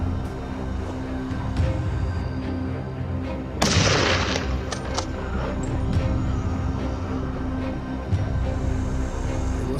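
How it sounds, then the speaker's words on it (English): Distant gunshots crack out several times during a wild boar hunt over a steady outdoor rumble, with one loud sharp blast standing out near the middle. "Gunshots rang out constantly"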